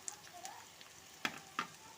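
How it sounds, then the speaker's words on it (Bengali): Chopped green chilies and capsicum frying together in a pan for mixed fried rice, with a soft steady sizzle and two sharper clinks of stirring near the end. "এগুলো সবগুলোকে আমি একসাথে ভাজা করে নেব"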